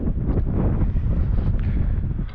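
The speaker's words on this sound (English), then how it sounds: "And enjoy a flight in the wind." Strong wind buffeting the microphone during a DJI FPV drone flight, a steady loud rumble with gusty swells throughout and no voices.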